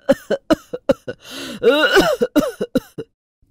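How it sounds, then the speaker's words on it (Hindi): A harsh, repeated cough in a rapid series of hacking bursts, close and loud, swelling into a longer wheezy fit before trailing off. "मुझे बड़ी जोर की खांसी हुई है।"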